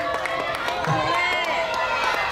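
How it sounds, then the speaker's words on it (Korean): Fans at an autograph signing event applaud and cheer, a steady crowd wash of clapping with a few distinct claps under a talking voice and murmur. "다시 한번 큰 박수 부탁드리겠습니다."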